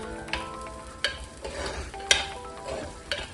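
Onion and chili paste sautéing in oil for a Kerala fish curry, with a steady low sizzle broken by several sharp scrapes and clacks of a spoon stirring the pan, close and fairly loud.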